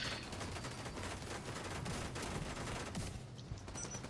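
Gunfire from a sniper during a six-man raid in a video game, heard as a steady rattle of distant, muffled shots running through a noisy background.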